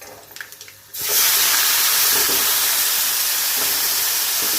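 Washed green beans dropped into hot oil already fried with cumin and turmeric, a sudden loud sizzling hiss that starts after a quieter second and holds steady to the end.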